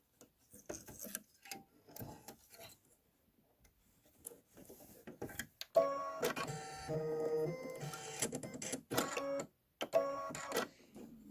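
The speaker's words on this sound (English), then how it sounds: "stitch the rocket body placement line, and I'm going to do that with plain red thread" A home embroidery machine stitches a rocket body placement line in plain red thread, a steady mechanical whirring and rapid ticking that starts partway in and runs on, with a few brief pauses, close and fairly loud.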